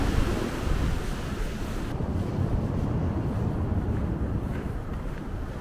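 Strong sea waves break against the breakwater of Hujin harbor on Korea's east coast, a loud, continuous rushing wash mixed with wind buffeting the microphone, and nobody speaks.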